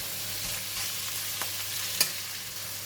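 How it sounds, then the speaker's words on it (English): Onions softening in cooking oil for a sweet pork rib soup give a steady, soft frying sizzle with faint stirring clicks and one brief tap, no voices. "Just going to fry until the onion becomes soft."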